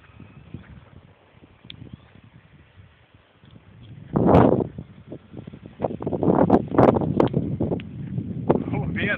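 Strong wind buffets an outdoor microphone in gusty bursts, rumbling loudly from about four seconds on, while people talk nearby.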